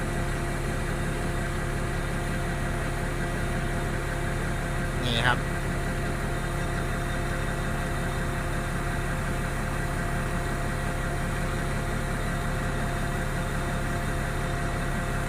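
Kubota DC70 combine harvester engine running steadily at close range, a constant droning hum with a brief mechanical clunk partway through.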